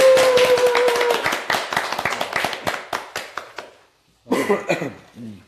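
A small group claps in a quick, scattered burst at the start of a Korean talk show debate, thinning out and stopping, followed by a short pause and a spoken voice.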